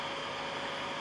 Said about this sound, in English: you may be able to hear the fan running in the background.